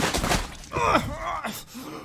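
Gory victim blood-splatter effect: squelchy, wet crunching hits and smeared noise bursts, fairly loud and close, arriving in a few uneven surges over two seconds.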